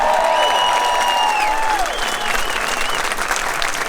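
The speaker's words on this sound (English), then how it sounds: "Nice round of applause for Tom Homan." A rally crowd gives Tom Homan a steady round of loud applause and some cheering, with whistles and shouts rising over the dense clapping.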